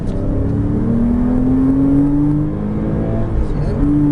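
A Porsche Cayman S accelerates hard on the Chenevières race circuit, its engine note climbing steadily from inside the car, then briefly dipping on a gear change before rising again.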